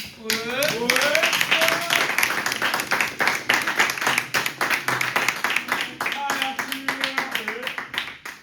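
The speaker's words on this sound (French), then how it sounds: "on peut applaudir Arthur" An audience applauds Arthur at a debate contest, brisk close clapping from a small group running the whole time, with voices talking and calling out over it.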